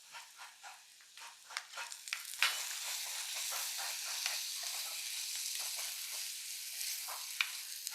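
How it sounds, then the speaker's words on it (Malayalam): Tomatoes go into a pan of wilted shallots for a mango curry, setting off a soft, close sizzle. Scraping stir strokes come first, then a steady hiss takes over. "ഇനി നമുക്ക് തക്കാളി ഇട്ട് കൊടുക്കാം"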